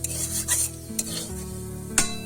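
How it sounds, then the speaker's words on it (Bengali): A spatula scrapes fried potatoes out of a kadai, giving a few rasping strokes over a low sizzle, close and fairly loud, with no talking. "আলু ভাজাটা হয়ে গেছে, এবার নামিয়ে দিচ্ছি"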